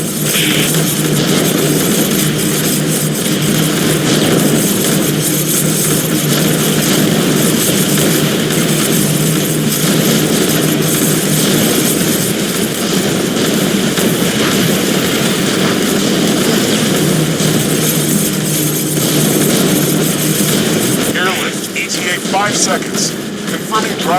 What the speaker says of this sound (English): Assault helicopters one click away from alien base.